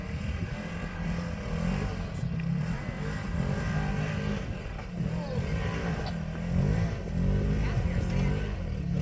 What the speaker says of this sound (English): watch how easy this little Polaris goes up after him